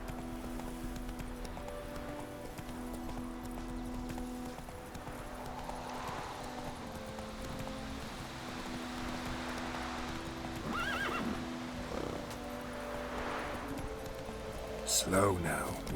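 Roach, the horse in The Witcher 3, gallops with steady clip-clop hoofbeats over game music and ambience, and near the end lets out a loud, close whinny.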